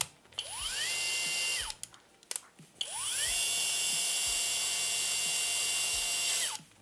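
HOTO 12V brushless cordless drill spinning up in two bursts, a high whine that rises quickly, holds steady, then winds down, with a short quiet gap and a few faint clicks between runs.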